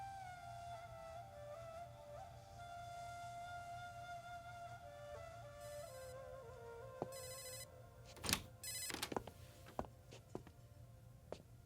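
A mobile phone left behind indoors rings with a steady, repeating electronic ringtone over a low hum, followed near the end by several sharp knocks and clatters.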